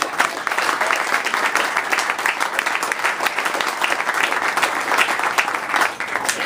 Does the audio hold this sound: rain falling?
no